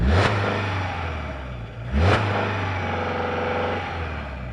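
A 2025 Subaru Forester heard from outside near the exhaust, its engine revved twice in quick bursts that each rise and settle back to a steady idle rumble, close and fairly loud with no talking.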